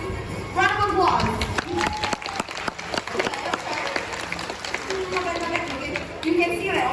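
An audience claps loudly at a comedic animal show, a dense burst of applause with sharp hand claps, while a voice talks over the clapping and crowd chatter.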